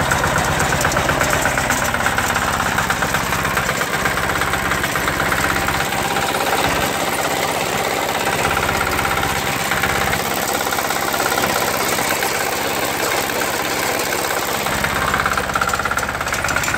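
A small diesel engine on a David Bradley snow thrower idles steadily and loudly, a continuous knocking chug that runs without a break and with no talking.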